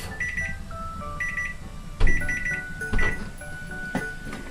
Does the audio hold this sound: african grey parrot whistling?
no